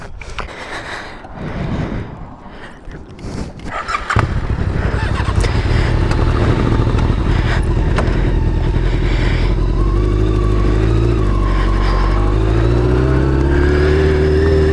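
Motorcycles riding along, with engines droning and rising in pitch as they pick up speed under loud wind rush, growing louder and steadier after a few seconds of lighter rumble.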